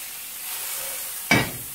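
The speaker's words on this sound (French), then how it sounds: "Ensuite, je mets le morceau de beurre" A lump of butter hits a hot pan and starts to sizzle in a sudden close burst near the end, after a quiet stretch of faint background hiss.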